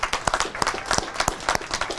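An audience at a Lincoln Society reenactment event in Peekskill gives a round of applause for Michael Macedoni, with dense, steady clapping and a few sharper individual claps standing out throughout.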